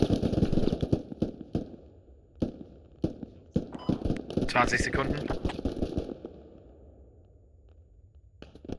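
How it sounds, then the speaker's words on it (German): Bursts of gunfire in the video game Squad crack repeatedly, some rapid and sharp, others distant, while a voice talks briefly over the shooting. "die Schüsse kommen immer noch aus dem Osten"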